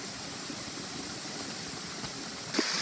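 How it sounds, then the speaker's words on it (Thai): Strong water rushing down a waterfall stream, a steady broadband hiss that holds throughout, with a brief knock just before the end. "ตอนนี้น้ำไหลแล้วนะทุกคน"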